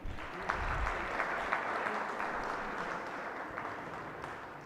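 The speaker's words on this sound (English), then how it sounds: "A loud applause for them, please." Audience applause at a lecture series event, a steady wash of many hands clapping at moderate distance, sustained evenly throughout with no speech over it.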